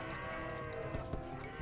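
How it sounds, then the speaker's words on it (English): Cattle in the Age of Empires II HD strategy game give a brief low moo, up close, over steady game ambience, during a 4v4 match on Ghost Lake. "Take these cows prisoner."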